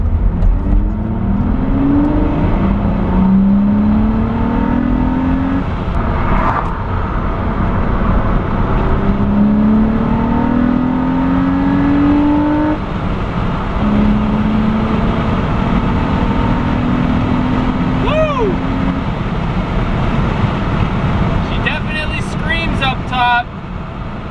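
A Nissan Altima fitted with an aftermarket intake and block-off plate accelerates through several gears. The engine rises in pitch with each gear, with a loud, steady intake drone heard from inside the car.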